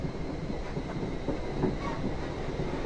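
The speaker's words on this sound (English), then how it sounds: "this is the Class 44 that we're driving" Class 444 electric train running on the Portsmouth Direct Line in Train Simulator 2015, a steady rumbling roll with faint rhythmic wheel clatter throughout.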